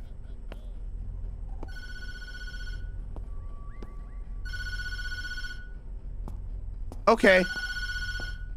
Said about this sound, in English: Nah, I'm not answering the phone.